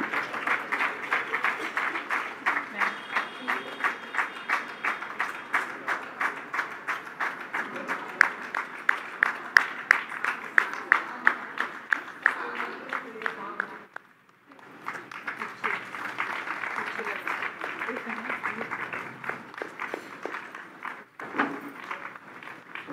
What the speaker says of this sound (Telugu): అందరూ క్లాప్స్ తోటి మేడంని వెల్కమ్ చేద్దాం